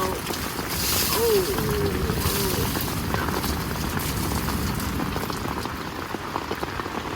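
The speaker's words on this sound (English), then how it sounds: "It's raining." Steady tropical rainy-season rain pours during a thunderstorm in Costa Rica, dense drumming on surfaces close by, holding level throughout; a faint voice briefly murmurs underneath.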